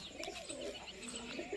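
Soft, repeated pigeon coos with a few faint chirps, close by over steady background noise, no talking.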